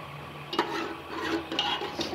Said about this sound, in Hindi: साथ साथ मैं प्याज को चलाती रहूँगी ताकि ये प्याज जले ना।